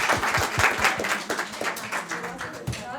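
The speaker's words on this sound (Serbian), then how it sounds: "jedan aplauz za naše gosta" Steady, dense applause from a press gathering for a film crew at a film festival, with a continuous wash of clapping and voices mixed in.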